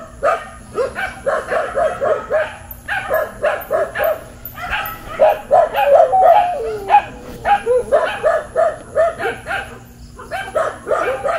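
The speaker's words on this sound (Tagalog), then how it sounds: "Ayan yung mga aso mga idol." Dogs bark repeatedly and close by in quick, rhythmic bursts, with some yips and whimpers mixed in. The barking runs almost without pause and is loud and dominant.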